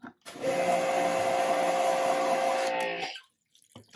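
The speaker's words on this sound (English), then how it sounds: "If it's dirty, we're going to rinse it out with our pressure washer here." A pressure washer sprays into a car wash bucket, a loud steady hissing rush that starts abruptly, holds for nearly three seconds, then cuts off into near silence.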